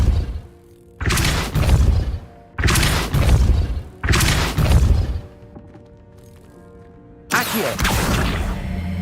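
Depulso spells cast in Hogwarts Legacy land as several heavy thumping blasts, four loud bursts separated by quieter gaps, with no talking.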